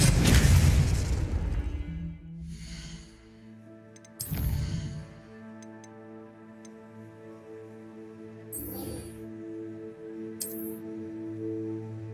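Magic spells bursting in the Hogwarts Legacy video game: a loud booming blast at the start, another sharp burst a few seconds later, then a sustained tonal hum with brief crackling bursts near the end.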